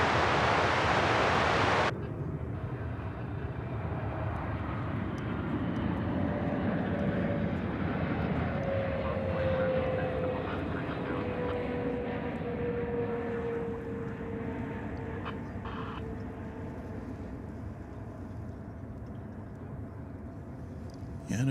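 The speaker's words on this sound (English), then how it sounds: "And a big touchdown." An airliner touches down at Dallas/Fort Worth Airport: after a brief loud burst, a long, broad roar of engines and reverse thrust rolls on with a descending whine, gradually easing over about twenty seconds.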